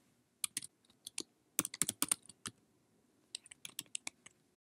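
Data being typed into a table on a computer keyboard, clusters of close, crisp key clicks in short irregular bursts with brief pauses in a quiet room.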